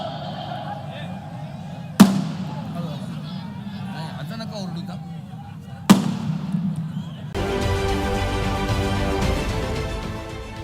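Two sharp, loud firecracker bangs at an outdoor political rally in Nashik, spaced a few seconds apart over a steady crowd murmur, followed by sustained noisy crackling and crowd din.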